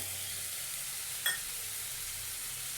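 Cumin powder and chopped tomato sizzle steadily in a hot pan for a mushroom curry, a soft continuous hiss with one brief clink partway through, no voices.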